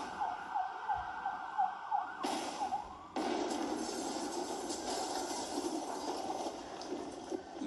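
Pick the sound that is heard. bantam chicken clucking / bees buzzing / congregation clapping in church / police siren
police siren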